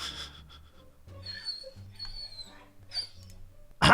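A puppy whimpers and whines softly in thin, high cries that come and go, fairly close and quiet, with a louder noise at the end.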